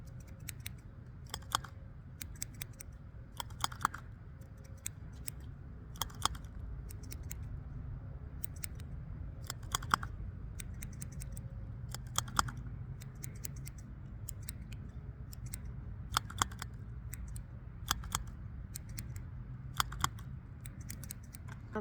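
Scissors snip in quick irregular pairs and clusters close to the ear, crisp metallic clicks over a low quiet background in an outdoor ASMR barbershop roleplay setting.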